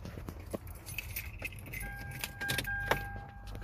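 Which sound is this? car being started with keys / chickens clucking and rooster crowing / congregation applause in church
car being started with keys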